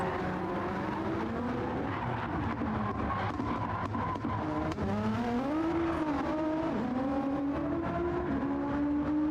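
Race cars in Gran Turismo 7 lapping during a qualifying session, engines droning and shifting pitch steadily with overlapping revs, loud and continuous with no talk.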